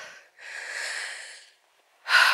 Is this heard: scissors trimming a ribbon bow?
no